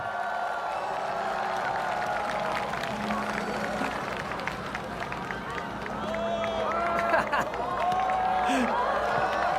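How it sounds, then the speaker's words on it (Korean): An audience gives a warm round of applause and cheering to welcome football commentator Park Moon-sung at a rally in Asan, a steady crowd roar with clapping and a babble of voices, moderately distant. "여러분 힘찬 박수로 모셔주십시오"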